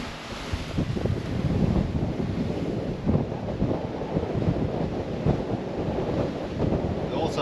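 Strong wind roars across the microphone on a 48-foot catamaran under way on the Delaware River, a dense, continuous gusty rumble with constant buffeting and no clear talk.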